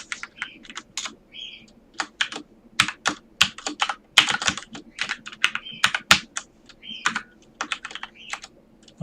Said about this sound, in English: Why am I so inaccurate with the typing?